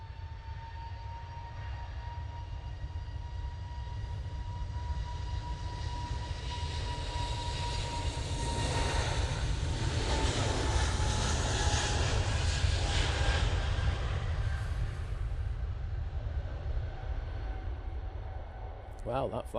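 An Air France A220 airliner at Manchester Airport gives a steady, broad engine roar that swells in the middle and then eases slightly, with a faint whine running through it.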